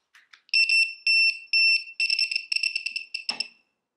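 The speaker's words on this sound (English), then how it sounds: "it will beep until the laser comes within 3 millimeters level, then the beeping will stop." A DeWalt self-leveling laser level beeps in sharp, high electronic pulses, three long tones and then a rapid run of shorter beeps that ends with a brief clatter.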